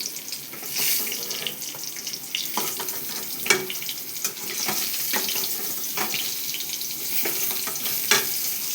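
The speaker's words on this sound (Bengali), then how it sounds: "এবার আমার পটলগুলো ভাজা হয়ে গেছে।" Pieces of pointed gourd fry in oil in a pan, a constant crackling hiss with scattered sharp pops and spatters close up.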